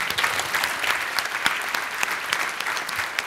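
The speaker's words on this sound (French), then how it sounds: "Je pense que vous pouvez vous applaudir," A large audience at a business awards gala applauds steadily, a dense even wash of many hands clapping that fills the hall without letting up.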